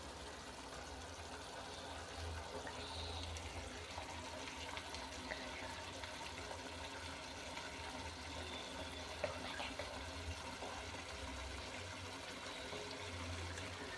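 Tomatoes and onions boil in a pan for chapati Maggi, giving a soft, steady bubbling and simmering hiss that continues evenly and faintly throughout.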